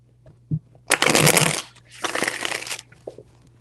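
Two bursts of tarot card shuffling, a short riffle followed by a longer one, close and crisp, with light taps before and after.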